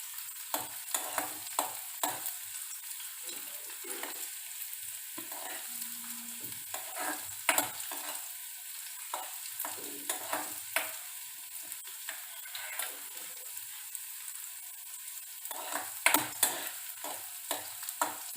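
Garlic frying in a pan on a low-to-medium flame for a Punjabi kadhi pakoda tadka, a steady soft sizzle with occasional stirring scrapes and small ticks, close and fairly quiet.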